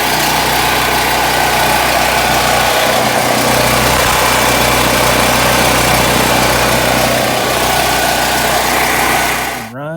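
A Predator portable generator engine, freshly refilled with oil after an oil change, runs loud and steady at a constant droning idle for the whole stretch, then cuts off abruptly at the end.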